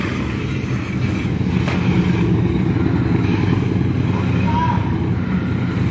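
Police big motorcycles on a closed road, POM IX street in Palembang, South Sumatra, during a traffic police training session; a continuous loud engine rumble and road noise throughout with no clear pauses.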